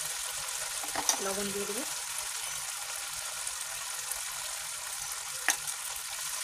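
A sour dish with turmeric fries in a pan with a soft, steady sizzle while someone speaks briefly over the cooking.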